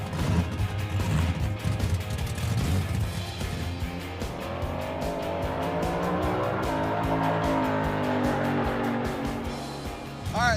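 A Pontiac Firebird drag car makes its first pass down a drag strip, its loud engine roaring and climbing in pitch as it accelerates hard, a dense, rising growl throughout.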